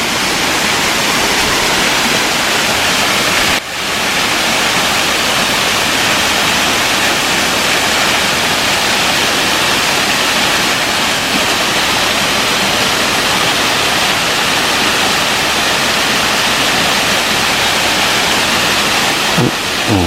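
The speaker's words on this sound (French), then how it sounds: "et une petite cascade." A small waterfall on a rocky trail pours in a continuous, loud, close rush of broadband water noise that stays steady and alone for the whole stretch.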